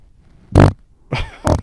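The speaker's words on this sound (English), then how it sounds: "I just farted, by the way." A person breaks wind in short, close bursts: one loud blast, then two more after a brief pause, with no talking over them.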